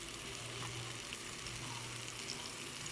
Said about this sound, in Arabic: معلقة زيت ومعلقة ثوم مع فلفل أخضر، فمنقليه زي ما انتم شايفين هيك